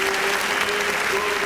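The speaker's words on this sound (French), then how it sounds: "On va appeler cette fois-là, mesdames et messieurs, le superviseur général de Pool Malébo Music Award, sous des applaudissements nourris" An audience applauds at a music awards ceremony, a steady dense wash of clapping that stays loud and even throughout.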